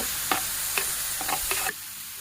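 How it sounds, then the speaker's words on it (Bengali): A frying mixture with turmeric, ground coriander and spices stirred in a pan, a loud hiss of oil broken by four quick spoon scrapes before the sizzle drops off abruptly. "এখন এটা ভালো করে নেড়ে চেড়ে নেব।"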